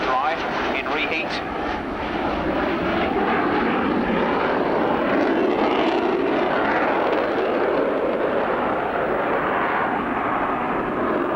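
Military jet powered by two Rolls-Royce Spey turbofans with reheat, flying at a 1990 RAF Abingdon airshow: a loud, steady broadband engine roar that holds for the whole stretch, with a voice talking over it.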